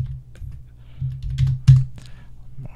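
Typing on a computer keyboard: a scattered run of close, irregular keystrokes and clacks, with a few heavier taps standing out.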